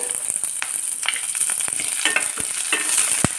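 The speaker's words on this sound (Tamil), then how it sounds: "நல்லா செவக்க வறுத்துக்குருவோம்." Seasoning for lemon rice crackles and sizzles in a hot pan, a close, continuous fry with frequent stirring scrapes and small pops throughout.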